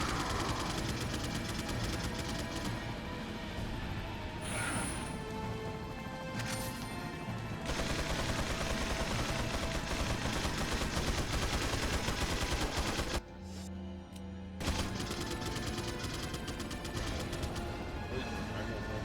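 Resident Evil 4 (2005) combat plays as a dense, loud wall of gunfire and crashing impacts, continuous for most of the stretch with a brief drop in the middle.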